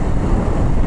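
Honda CBR300R motorcycle at full throttle in sixth gear at about 80, a steady loud low-pitched engine drone mixed with heavy wind rush, continuous and close with no speech.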